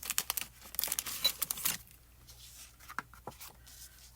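Sealed cards being cut from metal dies, a quick burst of crinkling, scraping paper sounds for under two seconds, then quieter sparse taps and rustles.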